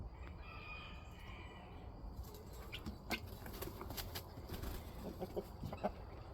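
Chickens in a hen house with roosts, soft scattered clucks and short calls over a low steady background hum, fairly faint and close.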